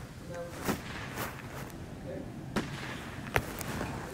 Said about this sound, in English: Are those gunshots?